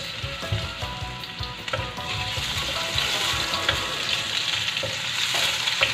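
Onion and garlic sizzle loudly in a frying pan, a steady hiss with occasional stirring scrapes and clinks, close and continuous with no talking.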